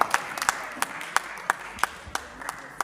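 An audience at a professional conference session claps for a presenter, sparse and fairly quiet with distinct individual claps, as if only a few people are still applauding.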